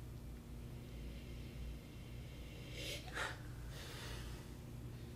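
Two or three quick nasal sniffs close up at a glass of Côte de Nuits Village red wine, a sharp inhale followed by a longer draw, over a low steady hum.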